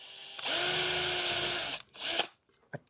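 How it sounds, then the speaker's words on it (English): A power drill bores through a scrap wood sheet with a loud, close whine that runs for over a second, stops, then gives a shorter burst followed by a couple of brief clicks. "So I'm drilling through the scrap"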